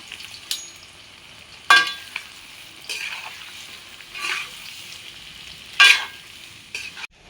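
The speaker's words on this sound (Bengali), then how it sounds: "তেলটা গরম হয়ে গেছে, এবার আমরা পেঁয়াজটা লাল লাল করে নিচ্ছি।" Sliced onions fry in hot oil in a wok, a low steady sizzle broken by a few loud scraping stirs of a spatula, close up and without speech.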